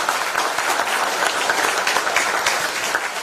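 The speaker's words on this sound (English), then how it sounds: "Let's give them all a big round of applause and welcome to our show." A church congregation applauds in a full service, a dense, steady wash of many hands clapping at close range that carries evenly throughout without letting up.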